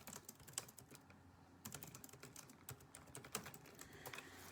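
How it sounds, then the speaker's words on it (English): Fingers type on a computer keyboard in quick irregular bursts of soft clicks, close by but very quiet, with a brief pause near the start. "let me type that out."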